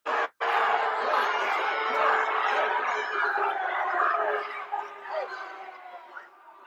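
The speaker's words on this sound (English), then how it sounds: "the state troopers are tussling with the crowd" Crowd noise from the January 6th riot playing back: a dense, agitated mass of shouting voices and chatter that holds steady, then thins and breaks up toward the end.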